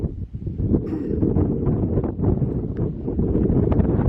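Steady wind buffets the microphone on Mary's Rock summit in Shenandoah National Park, a continuous low roar with gusty swells and no talking.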